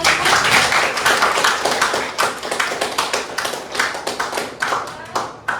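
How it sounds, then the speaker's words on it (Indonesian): An audience claps at the end of a university lecture, starting as dense applause and thinning into scattered, uneven handclaps that fade toward the end. "Tepuk tangan lagi untuk"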